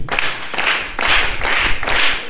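A congregation at a sermon claps in a steady, loud rhythm, about four or five even claps in quick succession, sounding close and full from many hands together.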